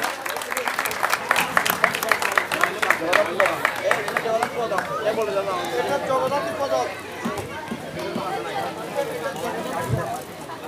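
An audience claps at a stage ceremony in a dense burst of applause that thins out as voices and crowd chatter take over.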